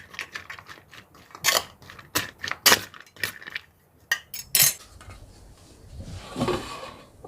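Okra tossed with oil in a bowl gives a run of close, irregular clicks and clattering taps, busy at first, then sparser, and fading into a soft shuffle.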